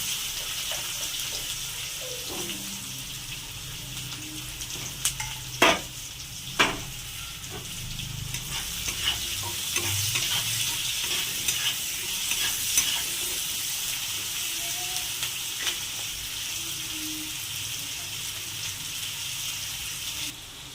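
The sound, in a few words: frying chopped onion and potato in a pan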